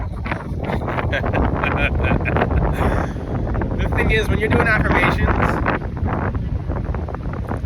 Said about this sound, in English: I'm at the beach. It's gonna be a little windy